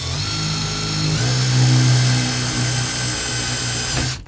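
A power drill bores pilot finger holes in a hard madake bamboo flute in a workshop, a loud steady close-up whir that shifts pitch slightly as the bit bites, then cuts off at the end.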